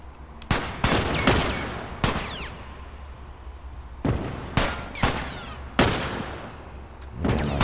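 Sharp gunshots from the video game The Last of Us, at a hydroelectric plant, crack out irregularly, some in quick pairs and clusters, each with a short ringing tail, over a low steady background hum.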